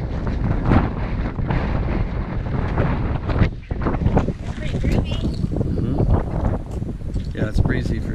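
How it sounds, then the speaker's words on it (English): Strong wind buffets the microphone outdoors at Joshua Tree, a loud, continuous roaring gusty rush with people talking faintly beneath it. "Yeah, it's breezy for sure."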